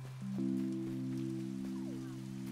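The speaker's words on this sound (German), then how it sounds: "Wieder Regen." Rain falls steadily in the Paleo Pines video game, a soft continuous patter under sustained musical tones, with no talking.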